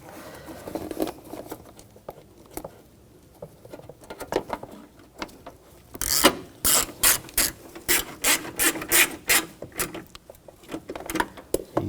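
A ratchet wrench snugs down bolts on the HID ballast control module of a 2000-2006 BMW X5, with soft fiddling at first and then a close run of sharp, rapid clicking ratchet strokes in quick bursts.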